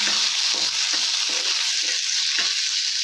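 Tomatoes fry in a pan for green peas curry, giving a steady close sizzle with a few soft stirring scrapes and no talking.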